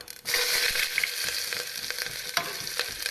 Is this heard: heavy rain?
no